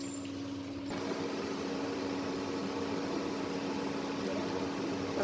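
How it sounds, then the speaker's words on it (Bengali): Sliced onions sizzle in hot oil in a home kitchen pan, a dense steady hiss and crackle that jumps up after the first second and continues evenly, with no talking. "পেঁয়াজটা ভেজে নিচ্ছি।"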